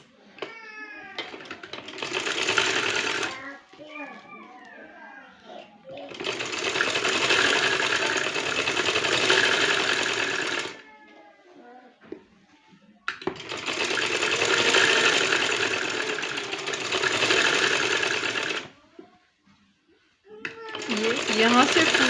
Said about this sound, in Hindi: तो पहले स्लीव्स की स्टिचिंग कर लेते हैं।